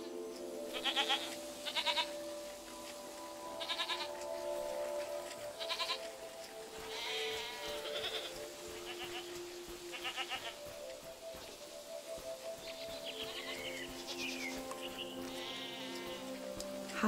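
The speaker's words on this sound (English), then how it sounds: "I'm petting this goat for you." A goat in the video game SEASON bleats repeatedly in short, evenly spaced calls while being petted, set against a soft steady ambient bed with no talking.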